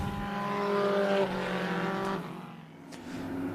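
Chevrolet Modified race cars roar around Tucson Speedway at the race start, a loud, sustained multi-engine drone with rising and falling engine pitches as the cars pass.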